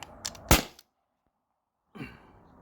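A single sharp, close pop from a T4E HDP50 Gen 2 CO2 pistol running on a 12 gram CO2 cartridge, followed by a short silence and a fainter after-sound.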